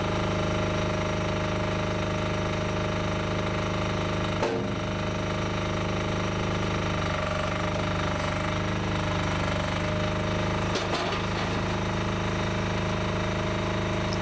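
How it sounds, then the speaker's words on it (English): Machine cutting irregular natural stone for dry stone walling runs as a steady, loud grinding drone throughout, with two brief sharp bangs partway through and no talk. "these days we use stone cutting machines"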